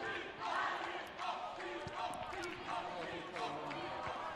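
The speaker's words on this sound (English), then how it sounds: "We're hearing a lot of cheering." Spectators cheering at a quidditch match between Chrookshanks Lyon and Sagene IF at a European tournament, a moderate, somewhat distant crowd roar with shouts and scattered claps rising and falling over a few seconds.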